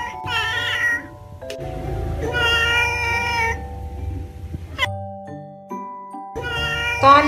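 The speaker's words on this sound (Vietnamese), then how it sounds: "Con mèo." Recorded cat meows played in a preschool animal-sound guessing game, several drawn-out mewing calls in sequence with a brief tonal chime between them, clear and close.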